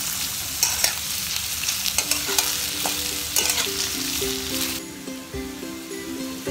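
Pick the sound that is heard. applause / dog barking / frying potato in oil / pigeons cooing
frying potato in oil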